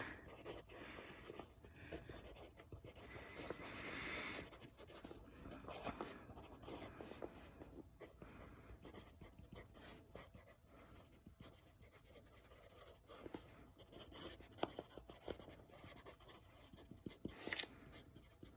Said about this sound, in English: I will write it.